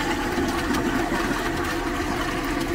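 A motorhome cassette toilet is emptied at a campsite disposal point in France, a continuous loud rush of pouring and gushing liquid that runs steadily throughout, close by.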